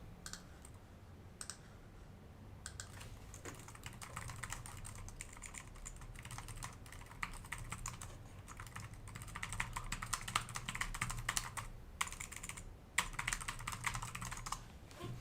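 Steady typing on a computer keyboard while writing AL code, a dense run of close clicking keystrokes with brief pauses, heard alone without talk.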